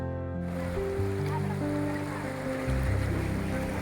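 Ocean waves wash against the rocky shore of Anjuna beach in a steady, rushing surge, partly covered by prominent background music.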